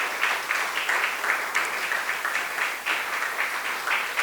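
An audience at a worship music release event applauds steadily, a dense, even wash of many hands clapping throughout, fairly loud and close with no break.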